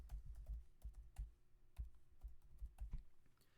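Rapid, faint keystrokes tap out on a computer keyboard in irregular bursts, close and alone with no talking.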